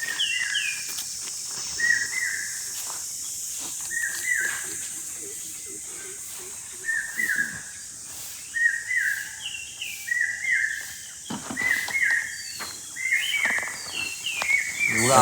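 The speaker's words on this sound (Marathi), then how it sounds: "मस्त पक्ष्यांचा आवाज येतोय, तुम्हाला ऐकायला येत असेल." Birds sing on a cloudy village morning walk in the Konkan countryside, repeated clear chirping phrases recurring through the whole stretch over a steady insect-like hiss, with faint footsteps and rustling close by.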